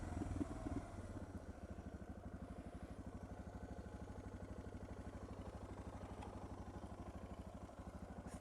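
Suzuki DR650SE motorcycle with a newly fitted FCR-MX carburetor runs steadily through a neighborhood street, giving a close, even single-cylinder thump with a rapid regular pulse and some mechanical clatter, holding a constant level throughout.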